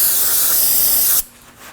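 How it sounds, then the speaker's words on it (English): One loud, close, continuous hiss of brake parts cleaner sprayed onto leftover brake fluid on a 2014-2020 Acura MDX brake hose fitting, lasting about a second before cutting off. "Using some brake parts cleaner, we're going to be spraying the leftover brake fluid."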